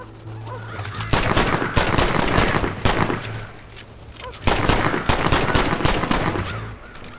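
Gunfire in the game Red Dead Redemption: two rapid volleys of sharp, cracking shots fire in quick succession, separated by a short lull, loud and close.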